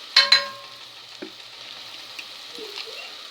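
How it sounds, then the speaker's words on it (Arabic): Onion fries in a pan with salt in a faint, thin sizzle, opened by two sharp clinks and followed by a few scattered light scrapes, quiet and without speech. "والبصله بتتحمر كده."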